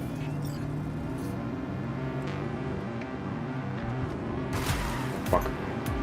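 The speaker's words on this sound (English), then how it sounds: "Oh my god, this car's so slow, what the hell?" Car engine droning steadily in a video game, a low continuous hum with a brief crash-like burst near the end, while people talk over it.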